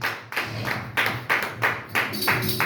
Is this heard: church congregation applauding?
yes